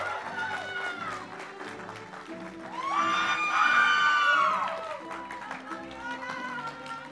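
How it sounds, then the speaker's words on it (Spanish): Graduation audience at a Puerto Rico school applauds and cheers, with claps, whoops and children shouting, swelling loudly in the middle before easing, voices mixed throughout. "Así que un aplauso para ella."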